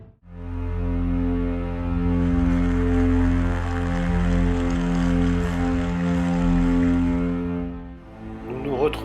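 A trimotor airplane drones in a steady, loud, multi-engine hum that holds evenly for several seconds before cutting off, serving as a sound effect under French narration.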